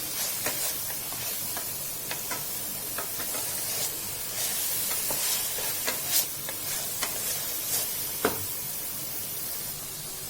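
Tomatoes sautéing in a pan over a medium-high flame, a continuous sizzling hiss close up, with occasional sharper crackles and pops scattered across a steady frying bed, and no voices.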